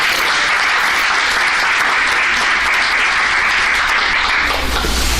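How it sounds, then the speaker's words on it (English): A room full of people at a health equity policy council meeting gives a panel sustained, dense applause, loud and continuous throughout without talk. "let's give Christy and our panel a big round of applause."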